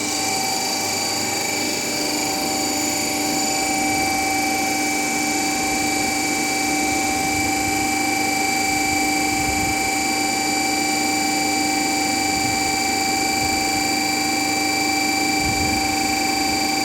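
A DC shunt generator runs under load at 1500 RPM, giving a loud, continuous electrical hum with steady high-pitched tonal whine, unchanging throughout with no talk.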